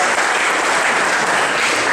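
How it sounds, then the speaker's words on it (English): Dense, steady applause from an audience at an evening event honouring presenters and sponsors, loud and continuous throughout with no break and no talk over it. "Let's keep that applause for all of our presenters tonight and for our sponsors this evening as well."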